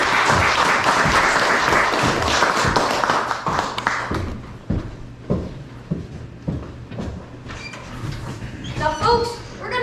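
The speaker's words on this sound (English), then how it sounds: "folks, again, round of applause for those actors there." Theatre audience applauding actors after a staged Old West gunfight show in a Tombstone, Arizona saloon theatre, loud dense clapping that thins into scattered individual claps, with a voice near the end.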